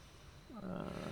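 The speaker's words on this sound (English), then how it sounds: "Can hear heavy breathing. And that's not me." Heavy, ragged breathing from an unseen presence in the indie horror game Paralyzis, swelling into a low, growling rasp that holds close and loud after a quieter start.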